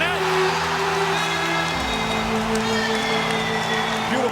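Basketball arena crowd cheering at the start of a Celtics game against LeBron James's team, a loud, sustained roar with applause, an announcer talking over it throughout.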